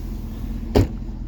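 A parked car's engine rumbles steadily and close by, a low continuous drone broken once by a short, sharp knock in the middle.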